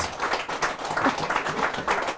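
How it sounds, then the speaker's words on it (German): An audience at a German talk show claps together, a dense, steady patter of many hands at moderate loudness, lasting throughout without pause. "Sie können ruhig mal zwischendurch klatschen"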